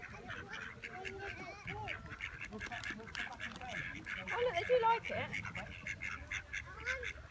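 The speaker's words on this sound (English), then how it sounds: "They're not shy, these ducks." Ducks quacking and honking as they are hand-fed, with scattered nearby calls that grow busier midway, while people talk over them.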